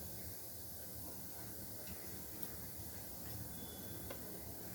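Cumin seeds sizzle as they fry in hot oil while cooking doi katla fish curry, a faint, steady hiss with occasional tiny crackles and no talk.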